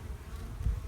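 Honey bees buzz around an opened beehive during an inspection, a steady close droning hum lasting under a second.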